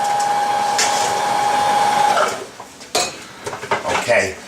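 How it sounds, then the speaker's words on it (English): A grinder breaking bread into crumbs runs as a steady motor whine for about two seconds, then stops and is followed by close clattering and knocking. "We're going to grind that up."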